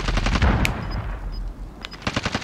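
Rapid automatic gunfire in the video game Warzone, dense close bursts of shots with a faint distant pop between volleys.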